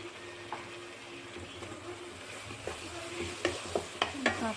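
Spices with turmeric and chillies frying in a pan for a Bengali lau chingari dish make a faint, low sizzle, broken by a few light stirring scrapes and soft clinks that grow a little more frequent later on.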